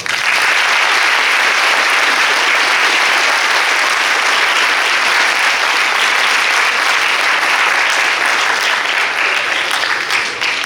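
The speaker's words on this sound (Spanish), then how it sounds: "Lo recibimos con un fuerte aplauso" A forum audience in Culiacán applauds loudly and steadily, dense clapping from many hands filling the room for the full stretch without a break and without talk over it.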